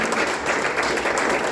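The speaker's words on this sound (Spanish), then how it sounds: "Puede darle un aplauso al Señor." A church congregation applauds, a dense, steady wash of many hands clapping together in a continuous roar with no breaks.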